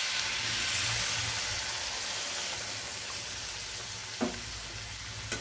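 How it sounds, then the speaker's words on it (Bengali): Mustard water poured into frying vegetables sets off a loud, broad hiss that slowly eases into a steady simmering sizzle, broken by one utensil knock near the end. "এই জলটা আমি এর মধ্যে দিয়ে দিলাম।"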